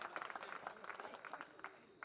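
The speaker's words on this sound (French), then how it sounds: "alors on l'applaudit s'il vous plaît." Applause from a small audience, faint and steady throughout, a brief patter of many hands with no voices over it.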